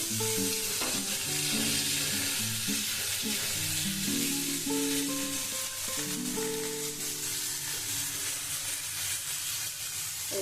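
Onions fry in a pan for a dish of helencha greens and small fish, giving a continuous close hiss of sizzling oil. Occasional stirring scrapes sound beneath it, with steady tones in the background.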